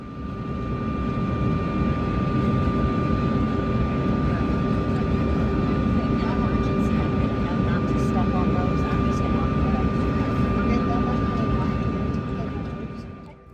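Cabin of a CRJ-200 regional jet waiting beside the taxiway, a loud, unbroken engine drone and rumble with a steady whine held throughout, fading only at the very end.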